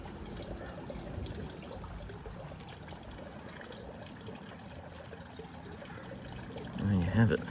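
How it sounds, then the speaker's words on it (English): Water trickling and dripping from a pond pump outlet into a bog filter, a steady, soft splashing wash that continues throughout and gets a little louder near the end. "I just want to have it up high enough just so it drips down there"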